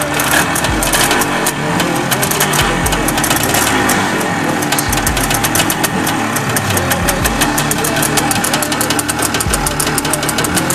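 An IZh Jupiter 3 motorcycle engine, started after standing unused for four and a half years, runs loud and close with a rapid rattling two-stroke beat and repeated revs rising and falling.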